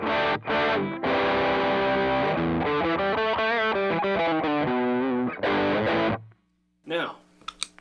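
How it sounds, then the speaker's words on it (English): Electric guitar through a modified Boss SD-1 overdrive pedal with extra boost, loud and distorted lead phrases with a brief pause, then cutting off into near silence and a few faint noises. "now you're gonna hear a significant volume jump with the clean channel and the modified SD-1"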